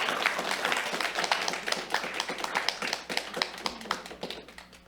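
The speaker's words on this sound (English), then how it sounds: "One last round of applause for our social workers." A round of applause for social workers at a Humboldt County Board of Supervisors meeting: many hands clap steadily and close, sustained for about five seconds and thinning toward the end.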